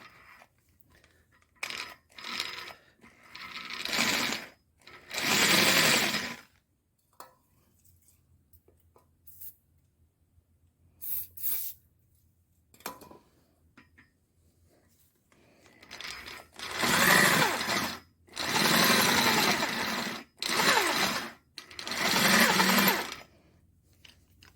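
A drill bit grinds into a broken engine bolt in bursts of loud, whirring drilling. The bursts are separated by pauses, with the last few runs longer and more sustained.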